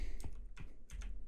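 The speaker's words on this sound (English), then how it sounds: "I'm clacking away at my keyboard" Three quick bursts of computer keyboard typing, close and fairly quiet, each a short cluster of clacking keystrokes separated by brief pauses, with no voices.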